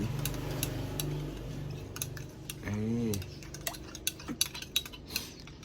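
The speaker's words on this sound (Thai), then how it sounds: "คราวนี้เราจะผสมคนนี่" Spoon clinking and stirring in a glass of coffee mixed with milk, syrup and sweetened condensed milk, a series of light metallic taps and scrapes that grow sharper toward the end, with a brief voice partway through.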